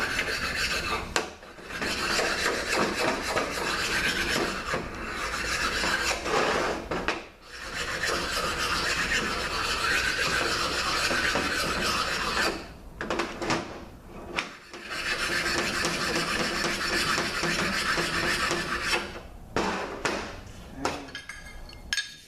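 Hand sanding of a part from a Toyota A140 automatic transmission valve body, a continuous loud abrasive rasping in long strokes with a few brief pauses.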